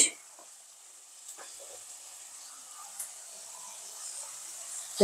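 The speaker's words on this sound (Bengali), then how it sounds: "মশলাটা কষাচ্ছি" Ground cumin paste with turmeric and chili powder fries in a pan as a faint, steady hiss, with a few soft scrapes of stirring.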